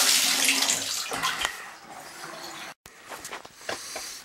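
Water gushes steadily from an open hot tap while a 50-gallon electric lowboy water heater fills, a loud continuous close rush that cuts out for a moment before resuming.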